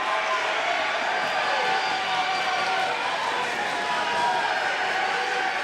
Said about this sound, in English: the Clive, Iowa crowd losing it for one called Manders